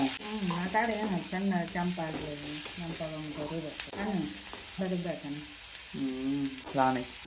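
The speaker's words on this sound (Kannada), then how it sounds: "ಆನಂತರ ನುಣ್ಣಗೆ ಹಚ್ಚಿಕೊಂಡಂಥ ಉಳ್ಳಾಗಡ್ಡೆಯನ್ನು ಹಾಕುತ್ತಾ ಕೈಯಾಡಿಸುತ್ತಾ" Chopped green chillies and finely sliced onion sizzle and are stirred in a hot pan while making a masala, a steady frying hiss running beneath near, continuous talking throughout.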